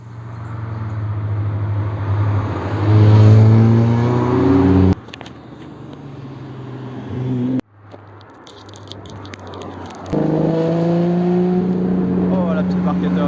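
Classic sports cars of the Tour Auto rally pass by on a road near Dijon and Beaune, engines rising and falling through several loud, close passes separated by abrupt shifts.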